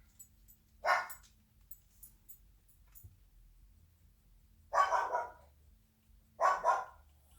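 A dog named Bertram barks at passersby from inside a living room: three sharp, moderately close barks, one early and a pair later, with quiet pauses between them.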